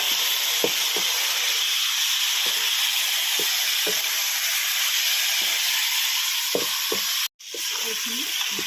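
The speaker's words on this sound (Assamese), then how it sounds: "এতিয়া মাংসখিনি ইয়াতে ঢালি দিম" Meat frying in a pan with onion, green chilli and ginger-garlic paste, giving a steady dense sizzle throughout, with scattered clinks and scrapes of stirring and a brief gap near the end.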